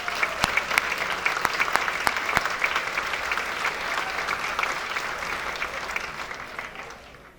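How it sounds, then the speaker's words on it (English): Applause from an event audience for a university concert choir at an alumni awards ceremony, steady and fairly loud with sharp individual claps standing out, gradually thinning and fading at the end. "Ladies and gentlemen, please give them one more round of applause."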